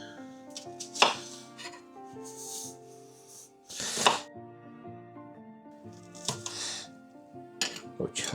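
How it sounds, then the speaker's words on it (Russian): An onion being chopped with a knife during home cooking, a few sharp, separate cuts spread out over steady background music. "И сразу же я порежу одну луковицу."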